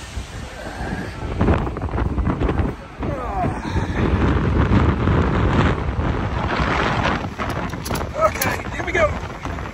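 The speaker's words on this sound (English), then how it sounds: "it's pretty windy." Heavy wind buffets the microphone in loud, continuous gusts, with a rushing roar that swells and eases throughout.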